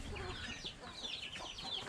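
Backyard chickens kept beside a house cluck in a steady, fairly faint chatter of overlapping calls, with no one speaking.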